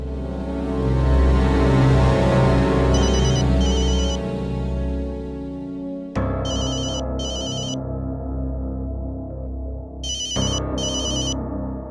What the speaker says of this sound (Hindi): शुक्ला जी का फोन?